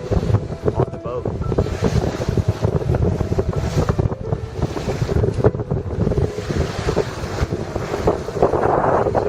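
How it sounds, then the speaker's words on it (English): Strong wind of 12 to 15 knots buffets the microphone aboard a sailing boat near Subic, Philippines, with gusty rumbling and water rushing along the hull throughout. "This 12 to 15 knots of wind is enough to be able to easily sail"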